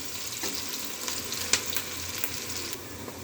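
Onions sizzle and fry in a pan for an aloo methi dish, a steady broad crackle with a few sharper clicks of stirring, close and moderately loud with no voices.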